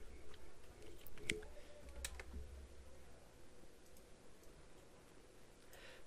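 Typing on a computer keyboard while entering text in Photoshop, heard as faint, scattered key clicks over low background hum, with no talking.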